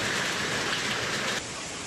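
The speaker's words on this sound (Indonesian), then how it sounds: "Butiran-butiran batu es berjatuhan berbarengan dengan hujan disertai angin kencang." Heavy rain with hail and strong wind sweeping Lampung Barat, a dense, loud, steady wash of falling water and ice that eases slightly near the end, with no voices.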